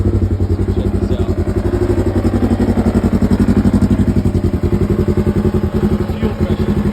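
A Polaris RZR XP 1000 Pro side-by-side engine with a misfire fault runs steadily nearby, a loud, even, pulsing drone with slight irregular lumpiness throughout.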